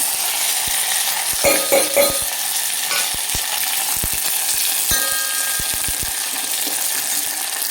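Cumin, mustard seeds, garlic, dry chillies and curry leaves sizzle steadily in hot oil for a mango dal tempering, close and loud, with sharp pops and crackles scattered through the hiss.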